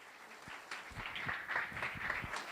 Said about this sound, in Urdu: آئیں خدا یسوع مسیح کے لیے زور تالیاں بجائیں گے